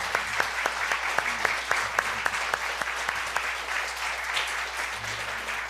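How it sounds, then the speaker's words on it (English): A congregation applauds steadily at a spiritual gathering, with crisp individual claps standing out over a dense wash of hands, moderately close and without talk. "I just want to give another round of applause to you"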